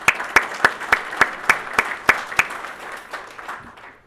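Short burst of audience applause at a family business awards event: a rhythmic, evenly spaced clap stands out over the crowd's clapping, which fades away after a few seconds.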